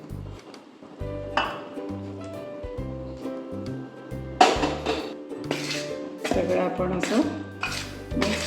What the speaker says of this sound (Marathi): अंदाजाने उकळतं पाणी आपण घालून असं मिक्स करून पाच मिनटं त्याला ठेवून द्यायचं आहे